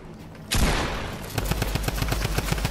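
Shotgun blasts in the Fortnite video game: one loud burst followed by a rapid, regular string of sharp shots, close and dense.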